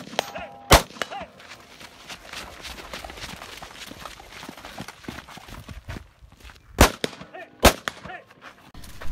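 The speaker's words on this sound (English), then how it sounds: "as soon as I see my dot dance across the target, I send the shot." Gunshots ringing on steel targets at an action shooting match, a few sharp, loud cracks spaced seconds apart over a busy background of footsteps and shuffling.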